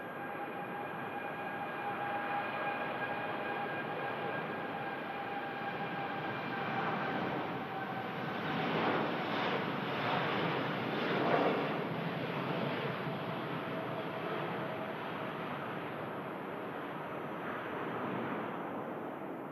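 A Gulf Air airliner on its takeoff roll down the runway, a steady broad roar of jet engines with a faint tonal whine, heard from a distance and holding level throughout.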